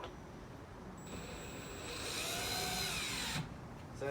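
A power drill bores holes while a 6x2x3 frame is being assembled, its motor whining steadily and rising in pitch as it bites in for a couple of seconds before easing off, close and loud over background hum.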